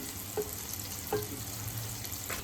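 Ginger, green chilli and garlic fry in hot oil for a Kerala-style lemon pickle, giving a faint, steady sizzle with a couple of soft clinks standing out.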